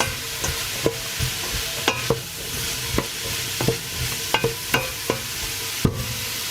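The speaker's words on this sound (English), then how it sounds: "I will stir and fry for 10 minutes." Vegetables for soup fry in a pan beneath a steady, moderate sizzle, with a utensil scraping and knocking against the pan at irregular intervals and no voices.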